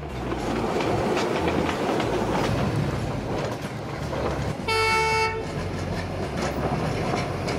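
Old passenger train in Myanmar rolling past with loud rumbling and clattering wheels, and a single sustained horn blast sounding near the middle.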